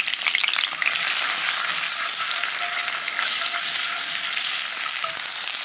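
Garlic sizzles in a hot pan, a bright, loud and continuous crackle that holds steady throughout, close by and alone without talk.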